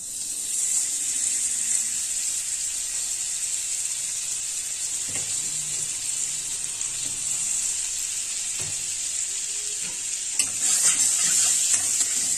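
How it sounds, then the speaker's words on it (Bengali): Steady close sizzle and hiss of butter melting in a hot frying pan, constant throughout, with a few soft knocks and scrapes of utensils. "প্রথমে কড়াই মাখন দিয়ে দিলাম"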